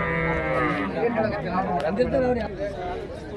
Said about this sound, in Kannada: ಇಲ್ಲೊಂದಿಷ್ಟು ಹಸುಗಳದಾವೆ ನೋಡ್ರಿ